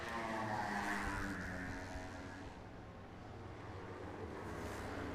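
Superbikes in a Masters Superbike Championship race roar past a tower, a loud engine drone that rises and then fades into a distant whine, with no voices.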